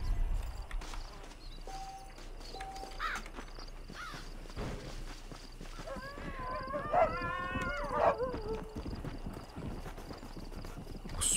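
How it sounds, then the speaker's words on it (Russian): Wolves howl in Red Dead Redemption in rising, wavering cries over a busy game soundscape with hoofbeats and ambient noise. "напугали меня волки"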